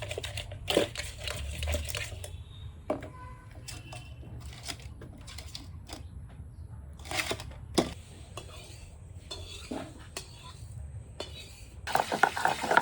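Pieces of catla fish are tossed with salt and turmeric in a bowl. Irregular clattering and knocking come close up, with soft shuffling between the louder hits.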